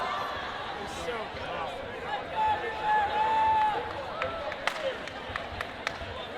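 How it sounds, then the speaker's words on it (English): A large indoor crowd at a Canadian national dodgeball championship gold medal match roars and cheers steadily, swelling louder midway, with scattered sharp claps and ball slaps and a person talking over the din. "This crowd, though, I hope you guys can hear it on the live stream as loud as we can."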